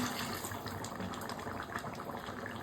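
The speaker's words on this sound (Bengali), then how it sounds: "এরপরে একটু সামান্য পানি দিয়ে দিব" Water is poured into a cooking pot holding a bottle gourd lentil curry, making a faint, steady splashing trickle that runs continuously at close range.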